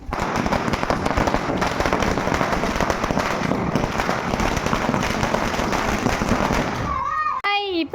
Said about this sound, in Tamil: எல்லா பட்டாசும் வந்து வெடிக்க ஆரம்பிச்சிட்டோம்